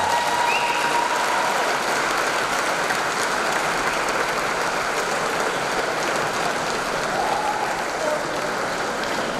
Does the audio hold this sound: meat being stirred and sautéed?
no